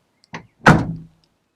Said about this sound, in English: Now we'll see if there's a difference in the noise to the door. So door closure noise outside.